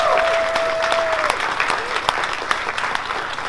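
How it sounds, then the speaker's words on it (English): Lively audience applause for a Star Wars Vader fan film crew at a live screening Q&A, dense clapping with a few sharp louder claps and a faint whistle early on. "big round of applause for them"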